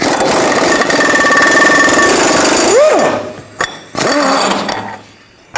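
An impact wrench with a 21mm socket hammers out an engine mount bolt on a 2009-17 Chevy Traverse, a loud rattling burst of nearly three seconds ending in a rising whine, then a second shorter burst after a pause.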